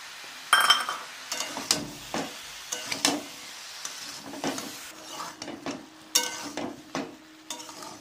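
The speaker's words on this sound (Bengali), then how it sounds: "আবারও কষিয়ে নেব।" Cauliflower and peas with spices being sautéed and stirred in a pan, a spatula scraping and clinking in irregular bursts over a low sizzle, close and moderately loud with no talking.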